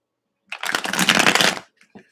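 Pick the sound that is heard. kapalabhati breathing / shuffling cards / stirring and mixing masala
shuffling cards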